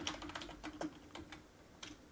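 Quick bursts of typing on a computer keyboard, a short command tapped out in irregular clicky keystrokes close up, quiet and with no voices.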